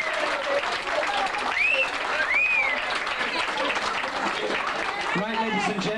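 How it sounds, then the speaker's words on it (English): Guests at a wedding reception clap steadily and warmly for several seconds, a close crowd applauding, with whoops and voices mixed in. "come on, give him a big round of applause."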